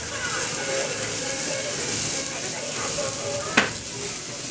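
Seafood sizzles in a hot pan with a little extra virgin olive oil, giving a continuous, fairly loud frying hiss with one sharp crackle near the end.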